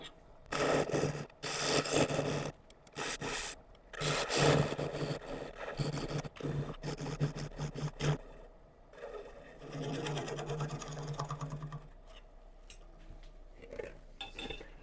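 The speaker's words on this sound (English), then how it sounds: "just enough for me to sand this base properly" Sandpaper held against the base of a spinning wooden bowl on a woodturning lathe, giving a steady rubbing hiss over the lathe's hum that rises and fades in several passes.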